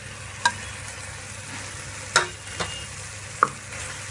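Egg curry masala is sautéed and stirred in a pan. Scattered spatula scrapes sound over a steady, quiet sizzle, and no one talks.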